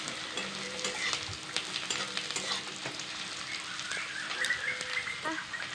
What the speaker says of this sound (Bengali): পেঁয়াজগুলিকে লাল লাল করে ফ্রাই করে নেব